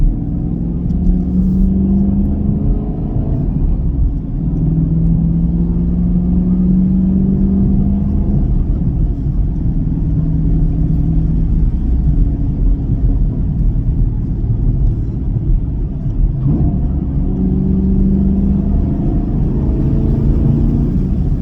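The LT1 V8 of a 2024 Chevrolet Camaro rumbles loudly and continuously from inside the car as it drives through turns, with the engine tone swelling and easing as the throttle changes.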